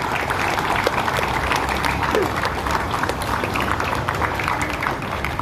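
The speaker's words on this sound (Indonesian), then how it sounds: "Kita kasih tepuk tangan dulu ya" Students and staff applaud the officers of a school flag ceremony outdoors, a steady wash of many hands clapping at an even, moderate loudness throughout, with faint voices in the crowd.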